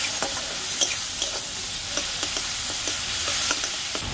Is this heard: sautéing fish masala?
yes